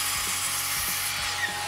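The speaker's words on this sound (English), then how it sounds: "we're going to go ahead and cut the decking boards down to that" A power saw cuts wooden decking boards for a park bench, a steady, continuous whine with a few faint rhythmic strokes, close and alone with no talk.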